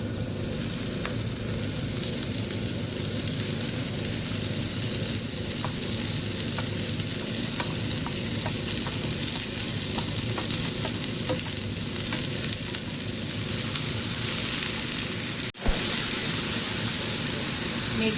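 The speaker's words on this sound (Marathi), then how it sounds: "तर जी कापून घेतलेली मुळं आहे तो टाकूया।" Cut radish pieces fry in a pan for a Konkani radish dish, giving a dense, continuous close sizzle with steady stirring and scraping throughout and one sharp knock near the end.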